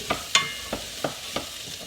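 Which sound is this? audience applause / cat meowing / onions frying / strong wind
onions frying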